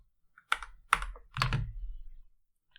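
Computer keyboard typing in a short burst: three or four distinct clusters of key clacks spread over about two seconds, close and fairly quiet, with no one talking.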